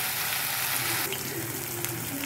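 Ginger garlic paste sizzles loudly in a pan with chicken, a dense, steady hiss of frying close up with faint stirring.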